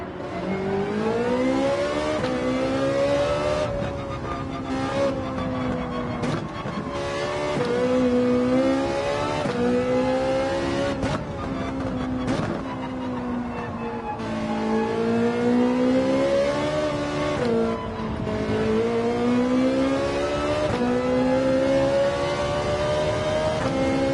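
A race car engine revs on the Nurburgring in Gran Turismo 7, rising and falling in pitch through repeated gear changes and braking, loud and steady with no talk.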